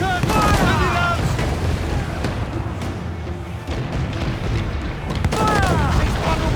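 Ship cannons firing in the pirate naval combat of Assassin's Creed IV Black Flag, a steady barrage of heavy booms and crackling gunfire under loud battle noise, with shouted crew calls near the start and end.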